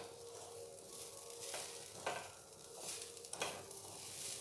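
Chopped almonds and pistachios are stirred into a coconut mixture for sugar narkel nadu, with a steady scraping and sizzling of the pan and a few sharper spatula strokes standing out, no voices.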